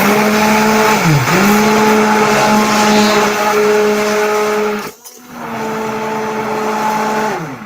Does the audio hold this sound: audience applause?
no